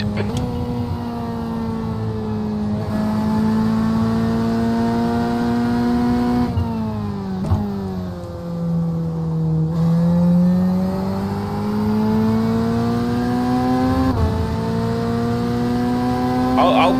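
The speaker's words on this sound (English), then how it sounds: "Song, car number 24, is now in the lead." GT3 race cars at Fuji in the iRacing sim during an 8-hour special event, a loud sustained engine whine rising and falling through gear changes, with a commentator talking over it.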